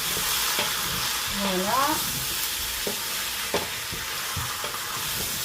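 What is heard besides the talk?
meat and onions frying in a pan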